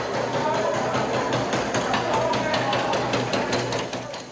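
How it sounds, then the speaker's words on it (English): Inmates yell and scream in a solitary confinement cell block at the Estelle High Security Unit in Texas, a dense, constant reverberant din with clanging bangs, loud and continuous. "The yelling, the screaming, the noise is pretty much of a constant reality in this place"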